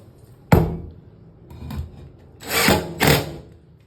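A screw gun driving screws into drywall over wall studs: a sharp knock, then several brief whirring bursts, close and loud, with quiet pauses between.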